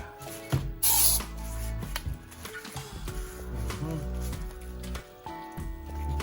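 A short hiss of spray bursts out near the start amid handling noises and a low hum, followed by clunks and rustling.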